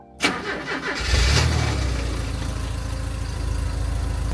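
A Dodge Dart Swinger with a swapped-in 440 V8 cranks briefly, then catches and roars to life, settling into a loud, steady, throbbing idle close by.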